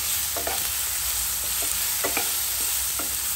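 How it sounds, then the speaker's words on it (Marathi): Onion and tomato sautéing in hot oil in a pan, a steady close sizzle with occasional scrapes and clinks of a stirring spoon. "1-2 मिनिट मी कांदा आणि टोमॅटो तेलामध्ये परतून घेतलेला आहे"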